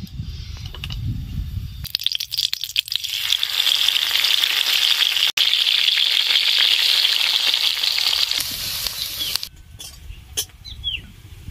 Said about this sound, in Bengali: পেঁয়াজ লাল লাল করে ভেজে নিয়েছি।